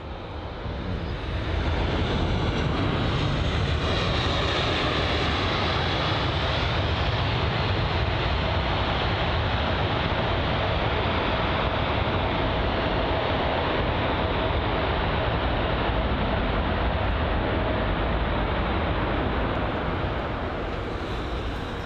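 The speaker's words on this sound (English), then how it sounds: "We could hear the reverse thrust on that British Airways jet." A British Airways jet landing at London Heathrow, a loud sustained roar of engines in reverse thrust that swells in and holds steady for some twenty seconds before easing slightly.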